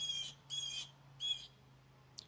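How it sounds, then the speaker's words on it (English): Several bursts of bird chirping or squawking outdoors, fairly quiet in the background over a low steady hum, with a brief sharp click at the end. "You can still hear birds"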